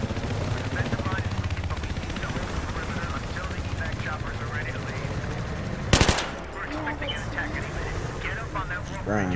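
Rapid automatic gunfire from a squad-based shooter video game rattles on continuously, with one sharp loud burst near the middle, beneath players talking over voice chat.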